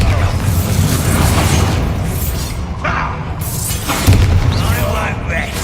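Spell blasts in a Harry Potter wizarding video game, a loud continuous barrage of bursts and crashes filling the whole stretch with dense booming rumble.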